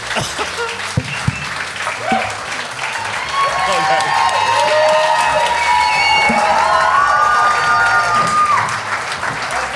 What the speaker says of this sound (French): Continuez à les applaudir